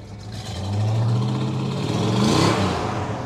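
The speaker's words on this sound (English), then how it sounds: "rev the engine" A Plymouth GTX or R/T muscle car with a 440 Six Pack V8 revs up close by, its deep rumble swelling into a strong blip, easing slightly and then rising again before settling back.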